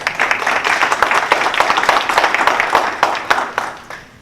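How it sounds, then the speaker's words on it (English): Crowd applause at a Florida Senate District 38 Advisory Board community gathering, a dense, steady patter of many hands clapping for about four seconds before fading slightly at the end. "A nice round of applause."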